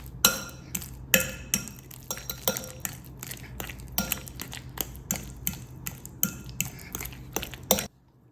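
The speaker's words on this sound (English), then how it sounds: "There's something so satisfying about mashing bananas, isn't there?" Bananas are mashed in a bowl for banana bread, with a steady run of roughly twice-per-second clinking strikes of utensil against dish, close and clear, stopping abruptly near the end.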